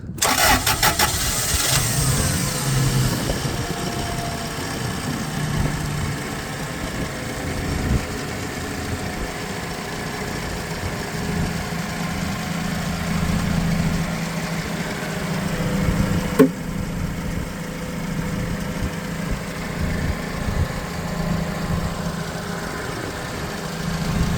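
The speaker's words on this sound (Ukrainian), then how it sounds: "одразу можу показати, як він запускається, побачите на холостих обертах" A 2018 Toyota 02-8FGF25 gas forklift engine cranks and starts up, then settles into a steady, loud idle that runs on evenly with a brief knock partway through.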